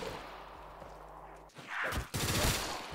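Submachine gun fire in the Black Ops 3 Zombies video game comes in rough, fairly quiet bursts in the second half, after a low steady drone.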